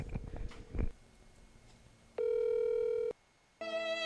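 A telephone dial tone and ringback beeps sound while a call is placed to a parent, a steady held tone after a few muffled handling bumps, then a short pause and another tone burst.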